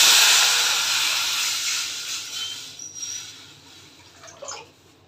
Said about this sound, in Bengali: একটু জল দিয়ে দিই।